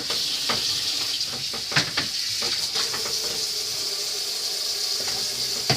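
Pork chops being rinsed under a running kitchen tap, a steady splashing stream of water with occasional sharper splashes and knocks as the meat is handled in the sink, no speech.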